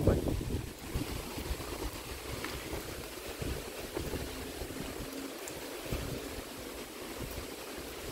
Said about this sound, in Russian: И ветер какой.